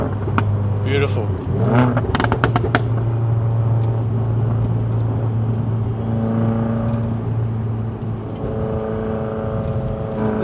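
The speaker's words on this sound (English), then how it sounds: "but just on the downshifts, it sounds so good." An Alfa Romeo engine and exhaust rise in a sharp rev burst on a downshift, then settle into a steady droning hum from inside the cabin, with someone talking over it.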